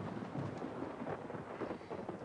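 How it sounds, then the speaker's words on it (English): Thunderstorm with a faint, continuous low rumble and rushing noise, distant and steady with no sharp claps, heard alone. "This storm shows no sign of letting up."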